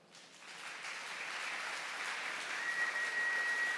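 Audience applause during a church sermon, starting faint and swelling into a steady wash of clapping that grows fuller and louder over a few seconds, heard from a distance with no speech.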